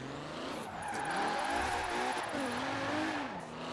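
Forza Horizon 4 car with a tuned setup revs and drifts, the engine climbing and dropping quickly through gear changes with a thin tire squeal on top, loud and continuous, with no voices.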